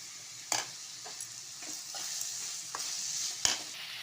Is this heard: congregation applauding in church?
no